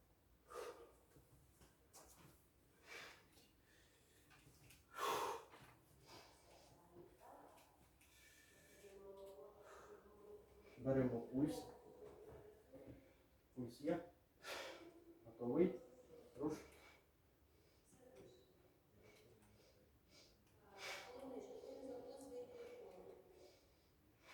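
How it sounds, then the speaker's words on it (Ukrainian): Heavy, rhythmic breathing exercise with deep inhales and forceful exhales or snorts in repeated bursts, fairly faint, interspersed with a guiding voice speaking. "Ще дихаємо, дихаємо."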